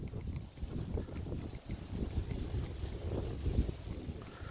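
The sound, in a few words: wind blowing on the microphone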